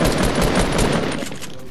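Rapid video game gunfire rattles in a dense, continuous burst of shots lasting under two seconds, loud and close, with no voices over it.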